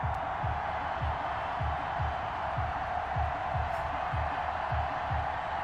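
A stadium crowd roars steadily at a pre-season football video game match between the Minnesota Vikings and Cincinnati Bengals, a continuous wash of cheering with a rhythmic low chant or stomp pulsing beneath it, no voices standing out.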